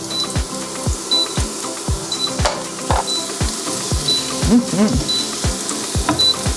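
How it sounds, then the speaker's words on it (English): Steady sizzling of onions and mushrooms frying on a hot indoor smokeless grill, with a regular clicking or tapping beat and occasional clatter of utensils; no talking. "I hear some sizzling."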